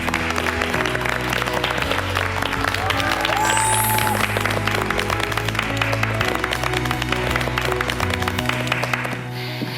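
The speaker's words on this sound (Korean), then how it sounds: "여러분 박수 주세요." An audience at a North Korean human rights event applauds a speaker, with dense, sustained clapping under a low murmur of crowd noise and a faint voice, continuing steadily throughout.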